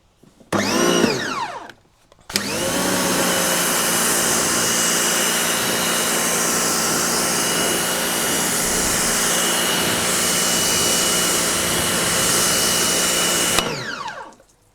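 A pressure washer rinses chemical-covered car paintwork, a steady loud hiss of spraying water running continuously for about eleven seconds after a brief start-up burst, then cutting off abruptly.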